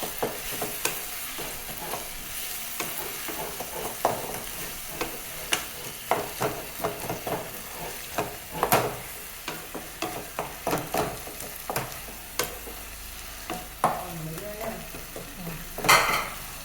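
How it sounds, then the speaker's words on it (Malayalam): Chicken with tomato and onion sautéing in a pan, with a steady sizzle broken by frequent scraping and clinking stirs of a spoon against the metal, close and moderately loud, no voices. "ചിക്കൻ്റെ തക്കാളി ഉള്ളിയും നന്നായി വഴറ്റി വന്നിട്ടുണ്ട്."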